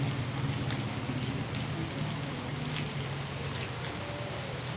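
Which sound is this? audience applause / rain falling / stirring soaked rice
rain falling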